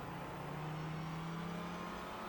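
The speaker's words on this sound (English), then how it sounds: "here comes the leading BMW" A BMW M3 GTR race car in the iRacing sim approaches at speed, its engine a steady, loud droning roar with a rising tone.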